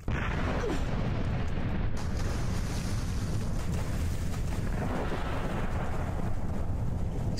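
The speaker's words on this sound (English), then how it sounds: "Explosions!" Explosions booming on and around a yacht near an island in the 1996 PC game Tomb Raider, heard as a sustained, loud, rumbling roar with no talk over it.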